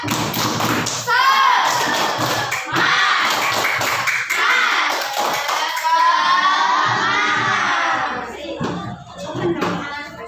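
A group of fifth-grade children in a classroom chant together while clapping and thumping in rhythm, their shouted voices loud and close, ending in a burst of cheering claps.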